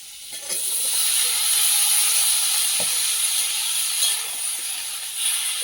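Bottle gourd greens, their stalks and potato hitting hot oil in a pan with fried fish, a loud, continuous broadband sizzle up close with a few faint utensil knocks, no speech.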